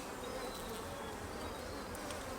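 Honey bees hum steadily inside an open hive as frames are lifted during a routine inspection, a calm, continuous buzzing with no speech.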